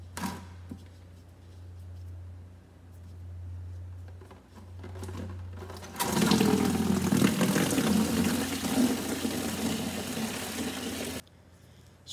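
Coolant drains from a John Deere 720/730 diesel tractor, starting as a quiet low hum, then a loud, splashing stream of liquid gushes for about five seconds before stopping abruptly.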